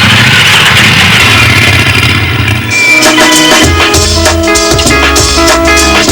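A Triumph Scrambler motorcycle engine runs steadily, loud and close, with a throbbing mid-pitched rumble that rises and falls slightly.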